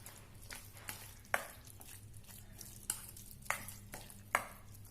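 Pickle mixture stirred after vinegar is poured in, a low bubbling, sizzling bed with several sharp spoon scrapes and knocks against the pot at irregular intervals, close and moderately quiet.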